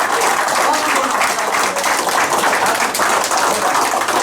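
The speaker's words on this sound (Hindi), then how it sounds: "हम आपसे ऐसी तालियां मांग रहे हैं कि ऐसी तालियां" An audience at a retirement and book-release ceremony claps vigorously, a loud, continuous burst of many hands with a slightly pulsing texture and no voices above it.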